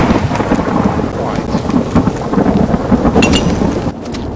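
Thunder and rain in the pirate ship game Blazing Sails: a loud, dense wash of rain runs under continuous low rumbling thunder, steady throughout with a slight drop near the end.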